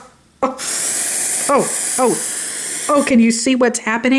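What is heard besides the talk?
aerosol dry shampoo spraying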